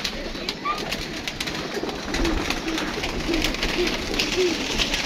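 Pigeons coo in soft, repeated low calls against a busy outdoor background, several coos spaced a second or so apart, moderately close and partly masked by ambient noise.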